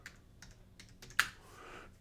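Keystrokes on a computer keyboard, a handful of soft taps followed by one sharper, louder clack near the middle, all alone in a quiet room.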